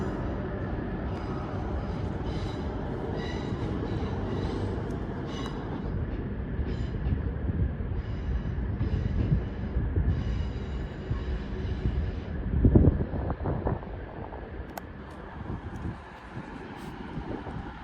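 A Class 221 CrossCountry diesel train rumbles at Stockport station, a steady low engine drone with rail noise and some wind buffeting, moderately distant, with a brief louder clank near the middle.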